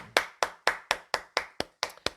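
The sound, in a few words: congregation clapping in thanks to the Lord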